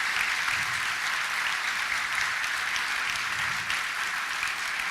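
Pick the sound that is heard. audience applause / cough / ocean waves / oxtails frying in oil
audience applause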